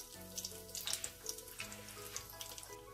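Curry leaves, cumin and fennel seeds fry in oil in a pan with a soft steady sizzle and crackle, close and fairly quiet.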